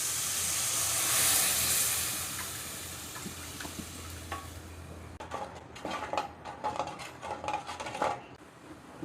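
Dissolved tamarind water pours into fish curry masala in a hot pan, bursting into a loud hiss and sizzle that fades into bubbling, with a few clinks and stirring scrapes near the end.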